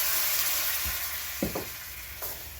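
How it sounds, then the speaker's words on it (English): Wine is poured into a hot pan used for searing chicken, producing a loud, steady hiss with a few short scraping knocks of a utensil in the middle. "We need to go in with the wine, and we're going to deglaze the pan"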